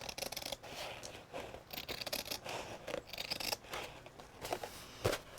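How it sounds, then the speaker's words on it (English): Tim Holtz scissors cutting through fabric, close and fairly quiet, giving a steady series of rasping snips and rustles with no talk over them. "I'm using Tim Holtz scissors, which will cut fabric"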